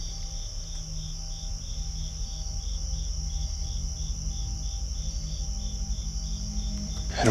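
Crickets chirp at night outside an abandoned house, a dense, continuous pulsing trill held at an even, moderate level throughout with no voices.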